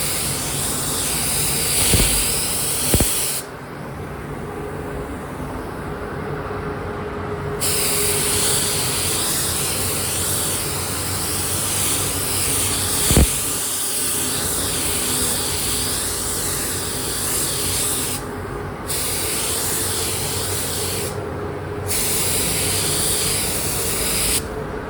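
Spray paint hisses loudly and continuously while blue coats go onto Honda CBR900RR Fireblade SC28 motorcycle parts, with a few short breaks in the spray and faint knocks underneath.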